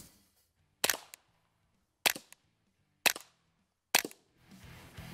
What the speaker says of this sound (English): We unscrewed the muzzle brake, screwed on a can, silencer, and we're just gonna shoot into the berm so you can hear what this sounds like